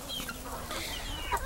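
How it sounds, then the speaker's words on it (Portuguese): Chickens cluck close by as they are let out of their coop, several short overlapping calls over a low background murmur. "Vou soltar as galinhas aqui, ó."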